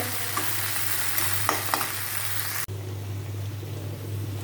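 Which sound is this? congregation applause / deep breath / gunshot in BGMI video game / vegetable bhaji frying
vegetable bhaji frying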